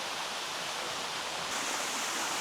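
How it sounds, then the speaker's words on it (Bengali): Water rushing down a hillside stream in Pelling, West Sikkim, a steady broadband hiss of flowing water that swells slightly louder partway through, continuous with no voices. "দেখুন সমস্ত জায়গাটা থেকে জল আসছে"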